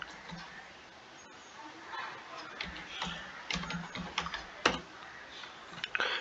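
Typing on a computer keyboard during a command-line session, irregular quiet clicks and taps scattered through the passage, with a few sharper keystrokes toward the end.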